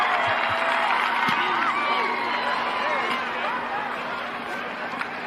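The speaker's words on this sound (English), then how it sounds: "You can hear the crowd" Football stadium crowd cheering, a loud, dense wash of many voices with whoops and shouts, sustained and slowly easing, with speech mixed in.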